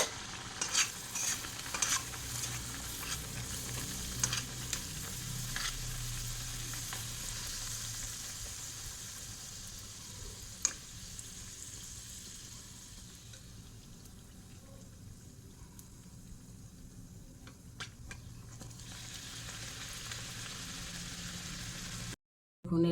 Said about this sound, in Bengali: এরকমভাবে আমি সবগুলো ভেজে নেব